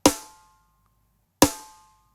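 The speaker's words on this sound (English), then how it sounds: "Using trigger 2 to trigger the Chris Adler snare from GGD Invasion. Sounds like this with no processing." Two separate hits of an unprocessed Chris Adler snare drum sample from GGD Invasion, tuned up, each a sharp crack with a ringing tone that decays over about half a second, spaced well apart with silence between.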